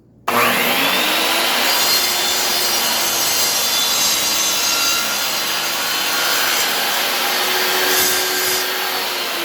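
A hand saw working through lumber for a workbench, close and loud, a continuous harsh grinding rasp that starts abruptly and holds steady for the whole stretch with no talk.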